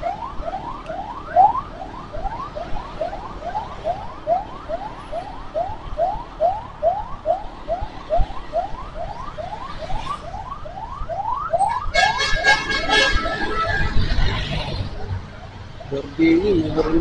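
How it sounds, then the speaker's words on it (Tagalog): A wailing ambulance siren sweeps up and down in steady rapid cycles, loud and close, with traffic noise and voices around it before a burst of other noise near the end. "Unahin natin si ambulansya."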